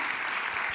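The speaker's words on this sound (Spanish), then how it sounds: "Ya te aplauden." Brief applause from an audience during an interview, a steady wash of distant clapping with no talk over it.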